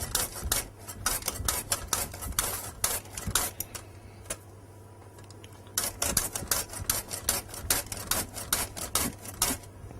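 Celery being grated on a mandoline, heard as quick rhythmic rasping strokes in bursts with a short pause midway. The strokes are close and steady, and no one talks.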